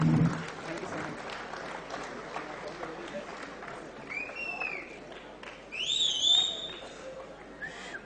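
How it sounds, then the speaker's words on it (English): Fairly faint applause from the audience at a students' company-law conference, a soft, even patter of clapping with a few high whistle-like tones rising over it midway. "A huge round of applause, please."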